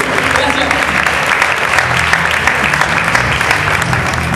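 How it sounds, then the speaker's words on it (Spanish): Loud, sustained audience applause fills a circus gala in Rosario, dense clapping over music-like tones carrying steadily throughout. "¡Fuerte el aplauso!"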